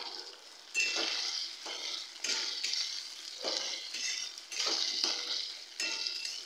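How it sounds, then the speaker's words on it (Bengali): Two tomatoes hit a frying pan over garlic and onion, giving repeated surges of sizzle as a spoon stirs and scrapes, each stroke rising and fading at moderate volume. "এবার আমি টমেটো দিয়ে দিচ্ছি"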